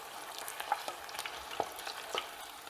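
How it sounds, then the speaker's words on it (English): Beer-battered onion rings frying in oil while being stirred, a soft steady sizzle broken by several light scraping stirs and gentle clinks, close and quiet. "About halfway through, you just want to give them a little stir, flip them around a little bit, just to make sure they don't stick together at all."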